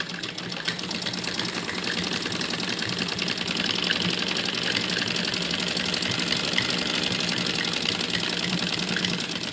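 A sewing machine hums at steady speed while stitching a child's Afghani-style salwar, with a fast even needle rattle throughout at close range and no pauses.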